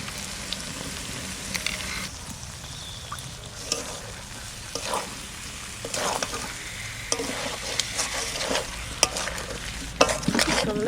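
Homegrown village potatoes for aloo dum sizzling in a pan with yogurt and cherry tomatoes, a steady crackling fry punctuated by repeated scraping and clattering stirs.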